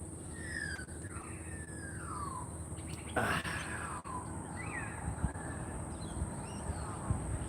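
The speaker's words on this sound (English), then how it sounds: "Can you hear the birds?" Birds chirp and call in scattered sweeping phrases over a steady outdoor hiss, with a brief louder burst of noise partway through.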